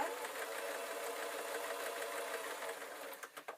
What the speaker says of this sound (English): We're going to sew a square.